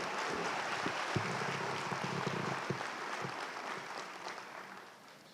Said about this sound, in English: We owe her a round of applause for her great years of service to this institution.